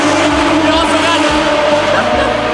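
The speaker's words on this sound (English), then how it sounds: "We also got vintage F1 cars running right now." Loud, continuous roar of vintage Formula 1 race car engines with shifting low rumbles and revving, a steady wall of mechanical noise throughout.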